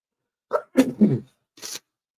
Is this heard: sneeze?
yes